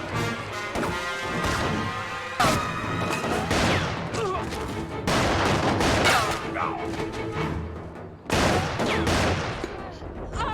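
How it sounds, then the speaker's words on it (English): Gunfire from a dramatic TV series plays as bursts of loud shots and crashes, several clustered volleys separated by short pauses. "Man, those guys suck at shooting, bruh."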